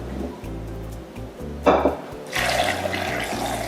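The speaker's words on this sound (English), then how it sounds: "And then we're going to add some water." Water pours steadily into a blender already holding cherries and simple syrup for homemade Bajan cherry juice, a close, splashing rush that starts loud and settles into a continuous fill over a low background hum.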